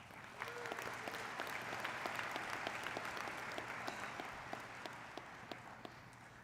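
Commencement crowd applauding, a steady wash of many hands clapping at moderate distance, fairly even throughout, with an occasional sharper nearby clap standing out.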